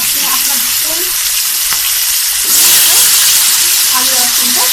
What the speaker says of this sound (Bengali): তেলটা গরম হয়ে গেছে, এবার আমি আলু আর সিমটা একসাথে ভেজে দেবো